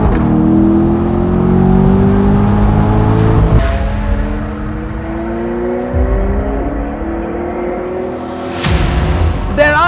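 A McLaren 720S or Corvette C8 V8 engine revs and holds a steady drone with rising and falling pitch, loud and close, with a sharper rev burst near the end.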